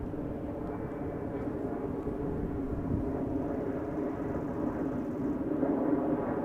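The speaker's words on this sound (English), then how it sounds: "Got an Embraer 190 going to Trondheim flying over us, departing." An Embraer 190 departing Amsterdam Schiphol roars overhead as a steady, broad engine rumble that holds loud and even throughout.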